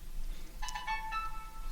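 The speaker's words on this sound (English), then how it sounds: "that is my phone going off for no reason" A mobile phone ringtone chirps briefly and faintly, a short burst of electronic tones over quiet room noise.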